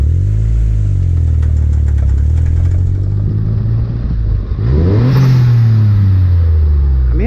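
A turbocharged Mitsubishi 3A92 engine with a Borg K03 turbo in a Chinese dune buggy is revved hard. The loud, close engine roar climbs, dips briefly, then surges again and holds.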